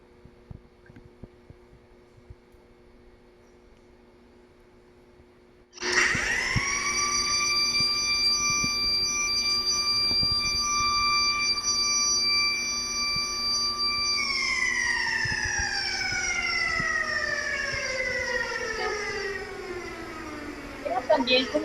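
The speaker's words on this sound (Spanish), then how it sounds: "con un bordado de abuelita se activara una sirena de ambulancia al detectar alcohol" An ambulance siren, set off by an embroidered breathalyzer artwork when it detects alcohol, starts abruptly and wails loudly and steadily with a falling pitch sweep near the end, heard over background chatter at an exhibition opening.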